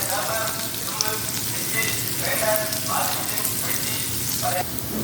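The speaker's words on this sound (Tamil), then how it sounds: "அந்த வெங்காயத்தையும் வதக்கிக்கலாம் கொஞ்சம் உப்பு போட்டுக்கலாம்" Chopped onions with salt sautéing in a pan produce a steady, close frying sizzle, with faint scrapes of stirring over the hiss and no speech.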